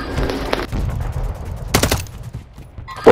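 Gunfire in a battle royale video game: a burst of rapid shots followed by a sharper single report, mixed with game ambience and movement noise, fairly loud and close.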